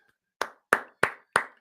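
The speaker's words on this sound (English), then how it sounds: "Give OJ a round of applause, everybody." Four sharp, evenly spaced claps from a stream deck applause sound effect, crisp and close, with silence between them and no voices.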